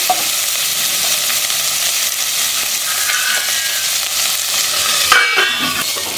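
Green chilies sizzle in a pan with vegetables while a spatula stirs them, a steady close crackle with scraping strokes and a brief louder clatter near the end. No one speaks.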